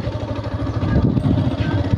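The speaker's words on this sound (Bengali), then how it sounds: "বাইকটা স্টার্ট দেওয়া" A Yamaha FZS V3.0 motorcycle engine runs with a low, steady rumble close by, holding an even idle-like throb with no voices.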